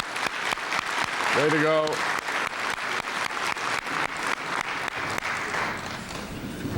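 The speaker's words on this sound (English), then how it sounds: "I think Lauren deserves another big round of applause." A council chamber audience gives a warm round of applause, dense steady clapping throughout with a brief voice calling out over it near the start.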